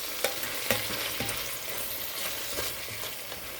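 Home-grown garden garlic sizzles in a soup pot for a tomato, kale and sausage soup, a soft, steady frying hiss broken by a few stirring clicks.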